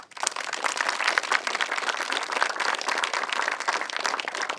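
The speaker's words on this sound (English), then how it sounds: "Can we just give them a round of applause?" A conference audience gives a sustained round of applause at the 2019 Colchester Digital Conference, with dense, steady clapping filling the room from start to finish and no talk over it.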